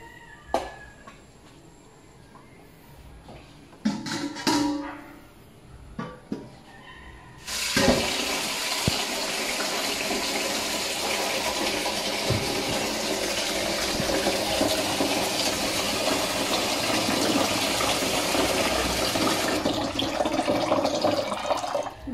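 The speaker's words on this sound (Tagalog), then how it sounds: "babad muna natin dito sa malamig na tubig para mabilis maglamig" Cold water runs from a tap to cool a glass of boiled sambong tea with oregano, starting with a few clinks and splashes, then settling into a loud, steady rushing stream that goes on for about fifteen seconds.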